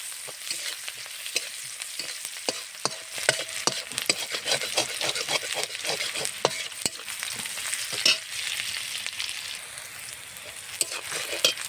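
Spicy onions fry until reddened in a pan for a bottle gourd and prawn curry, a steady soft sizzle broken by frequent scraping and tapping of a stirring spatula, fairly faint but close.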